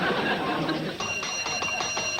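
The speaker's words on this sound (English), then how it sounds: "will you stop ringing that bell?" A small hand bell rings in repeated bright bursts in a sitcom scene, loud and close, while voices talk over the first part.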